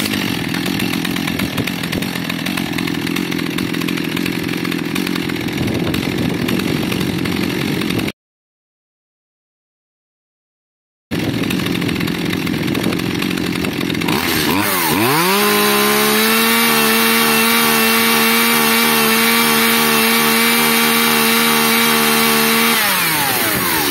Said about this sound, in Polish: Teraz uważam, pilarka pracuje jak należy.